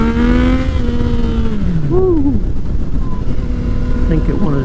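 A motorcycle engine revs, its droning tone sliding up and down in pitch, loud and close, with a rider talking over it.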